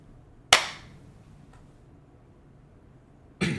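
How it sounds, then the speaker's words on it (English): Two sharp single hand claps, far apart, each a crisp isolated snap against near silence, loud and close. "Okay, single clap."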